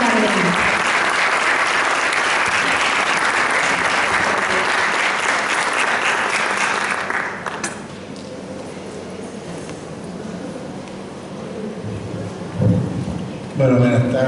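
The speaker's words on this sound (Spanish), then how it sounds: "Con un fuerte aplauso lo recibimos a Monseñor Héctor Tardelli" An audience welcomes Monsignor Héctor Tardelli with loud, dense applause that runs for about seven seconds before fading into a quieter room, followed by faint movement and a few thumps.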